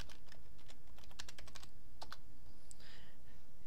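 A computer keyboard is typed on during a Linux software install: a quick run of light, close key clicks followed by a few scattered taps, faint over a steady background hiss, with no speech.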